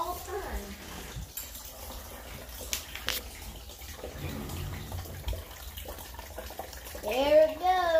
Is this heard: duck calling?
no